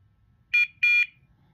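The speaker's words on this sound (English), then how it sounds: "if it points, it'll beep." A Dogtra 2700T&B pointer collar gives two short, loud electronic beeps in quick succession, bright and shrill, followed by quiet, with no talking.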